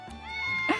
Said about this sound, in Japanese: Suddenly, a cat pops its face out of Vane's jacket and lets out a loud meow.